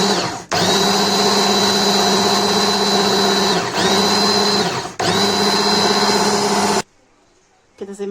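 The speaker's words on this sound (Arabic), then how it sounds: "دلوقتي كده هنفرم" An electric meat grinder minces meat for kofta, a loud, high motor whine in three long runs with brief dips between them, then stopping to near silence.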